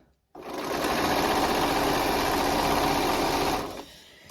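A sewing machine stitches fleece fabric for a kids' hat in one long, loud, even run of rapid mechanical chatter that starts abruptly, holds steady for about three seconds, then slows and stops.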